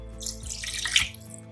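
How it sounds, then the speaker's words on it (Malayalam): Half a cup of hot water is poured into a pot of rasam in a home kitchen, a soft steady splashing stream lasting just over a second, close and fairly quiet. "അപ്പൊ അതാ 1/2 കപ്പ് വെള്ളം കൂടി ചേർത്ത് കൊടുക്കുവാണ്"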